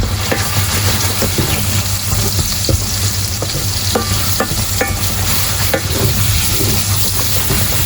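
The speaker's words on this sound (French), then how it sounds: "je suis sur une poêle en inox. Je dois brasser assez souvent." Potatoes with spices and garlic frying in a stainless steel pan, a loud continuous sizzle with frequent stirring scrapes and taps, close up with no speech.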